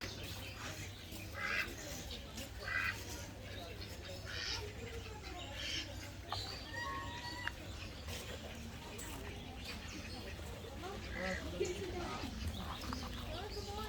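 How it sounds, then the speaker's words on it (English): Indian farm ducks at a pet sanctuary near Bangalore quack in scattered bursts close by, mixed with chirpy bird calls while people talk throughout. "Those are Indian normal farm ducks"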